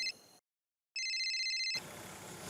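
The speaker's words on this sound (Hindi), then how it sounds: "फोन आया।" A telephone rings with an electronic trill, a short burst, a pause, then a longer ring, fairly quiet, before broadband background noise takes over.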